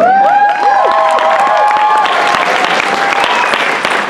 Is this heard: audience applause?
yes